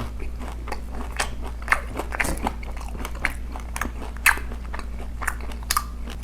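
Close crisp crunching as someone bites into and chews crispy Korean-style fried chicken served with fries, sharp irregular bites over a low steady background hum with no speech.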